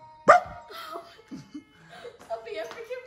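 A person imitates a dog with one sharp, loud bark-like yelp at the start, followed by chuckling and casual talk from others at close range.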